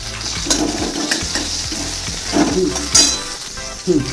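Onions and mustard seed tempering sizzle in hot oil in a kadai for Bengali sambar dal, a steady close frying hiss with a few clinks and stirring scrapes, no talk.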